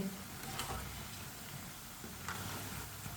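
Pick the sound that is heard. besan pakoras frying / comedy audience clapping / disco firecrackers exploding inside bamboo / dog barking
besan pakoras frying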